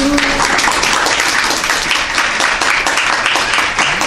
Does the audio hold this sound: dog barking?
no